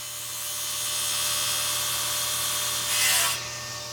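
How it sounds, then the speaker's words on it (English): Power saw making a plunge cut into wood, a steady whining buzz that swells gradually and brightens into a harsher cutting rasp near the end, close and without speech. "whenever you're making plunge cuts like this, you want to go forwards only"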